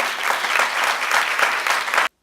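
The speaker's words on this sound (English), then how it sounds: "let's give a great round of applause for Paton Blau and all the good work that he's done" A crowd at a Stepping Up Initiative event in Washington, DC applauds Paton Blau with a strong, dense burst of clapping that cuts off abruptly after about two seconds.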